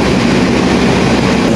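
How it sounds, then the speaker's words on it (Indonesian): A train held at Cirebon station on the Tegal to Jakarta Pasar Senen route, giving a loud, steady, broad rumble of engine and rail noise with no distinct beats, close by. "Kereta ini tujuan dari Tegal ke Jakarta ya, ke Pasar Senen. Jadi masih ketahan di stasiun Cirebon."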